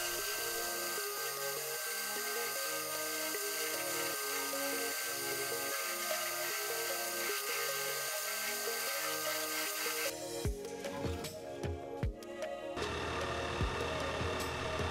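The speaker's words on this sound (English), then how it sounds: "we're using some mist coolant just to try to keep the bit cool and just try to keep the drilling" A drill bit grinds through metal with a steady high whine and rhythmic chatter, then a hiss of mist coolant spray and shifting machine noise near the end.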